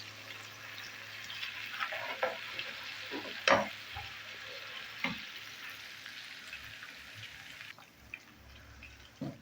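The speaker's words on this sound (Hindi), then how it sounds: "तो ये हमने अदरक लहसुन इसमें डाल दिया है।" Ginger and garlic fry in hot oil in a pan for tadka dal, giving a steady soft sizzle with occasional sharper crackles and stirring clicks, close and alone without talk.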